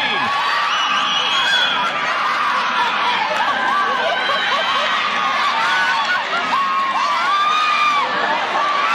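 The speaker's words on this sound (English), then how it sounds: "just a huge round of applause for both teams" A loud arena crowd cheers after a decisive fifth-set point in an NCAA volleyball match, Houston against Auburn, with continuous roaring and shrill squeals and whistles layered throughout.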